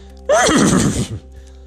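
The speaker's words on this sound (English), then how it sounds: "The horse neighed and said," A horse neighs once in a loud, close whinny that rises and then falls in a shaky trill, lasting about a second against a quiet background.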